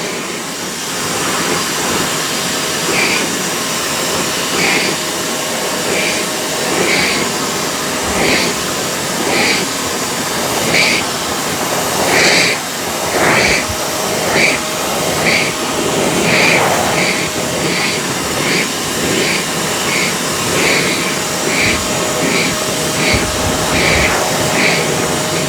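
A Shark StainStriker PX251 portable carpet cleaner works over a pet bed, giving a loud, steady motor whine and suction hiss with evenly repeated pulses as the nozzle is drawn back and forth.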